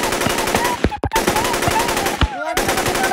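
Rapid automatic gunfire rattles in a dense, continuous burst from guns in an animated parody cartoon, with a couple of brief gaps and a sharp sweep near the end.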